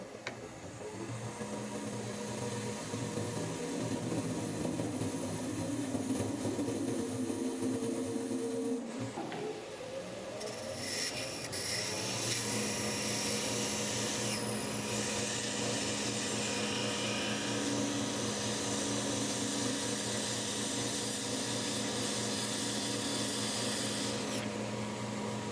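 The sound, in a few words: parting off resin and scrap wood piece on lathe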